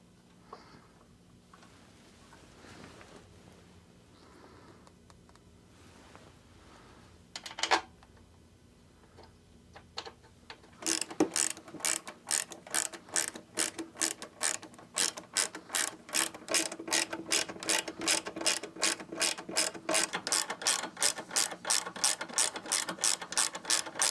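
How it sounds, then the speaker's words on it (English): Ratchet driving Loctite-coated bolts into a fairing relocation bracket on a 2016 Harley-Davidson Road Glide, a rapid run of close, loud clicks building steadily over the second half after quieter shop sounds and a couple of sharp knocks. "Now we're going to hit a little bit of Loctite on each of these bolts, run them in."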